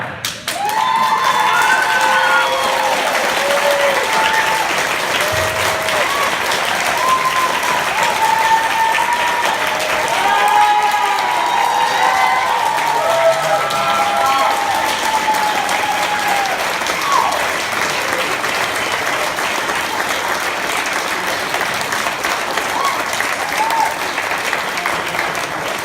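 A large convention audience at a script-reading panel applauds and cheers continuously for nearly half a minute, with dense clapping and whoops and shouts rising through the middle, loud and sustained throughout.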